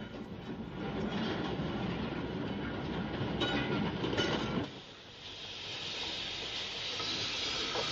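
A Southern Railway steam locomotive hauls a train in 1950s–60s archive recordings. It gives a continuous rumble with hissing and rail clatter, and the sound drops and shifts partway through before the running noise resumes.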